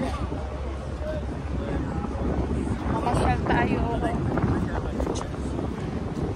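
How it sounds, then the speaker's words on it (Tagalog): Wind blows along a city street near Science World on a hot day, a steady low rumble buffeting the microphone throughout while people talk over it. "mahangin."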